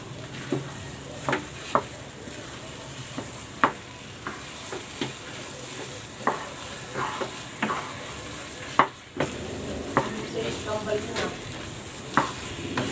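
Latik is stirred into cooked sticky rice in a pan, the spoon scraping and thudding in irregular sharp knocks against a soft wet sizzle, close and clear with no talking.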